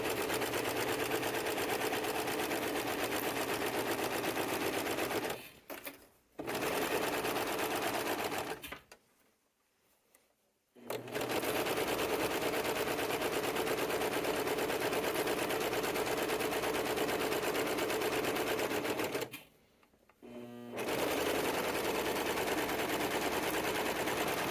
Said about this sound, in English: I use a serger, which is going to automatically cut off that seam allowance